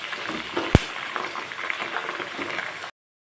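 Oil heating on a stove with forest herb leaves to make hair oil gives a steady soft frying sizzle with light bubbling, one sharp clunk near the start, and no talking.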